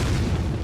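Thrown dynamite goes off in Resident Evil 4, a short, heavy explosive boom with a thick low rumble that fills the brief moment at moderate loudness, with no voices present.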